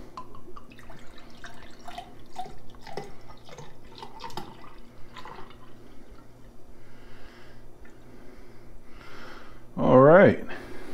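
O.G. 1111 craft beer from Birra del Carrobiolo in Monta, Italy, pours from a bottle into a glass, a short loud gurgling glug near the end after someone talks.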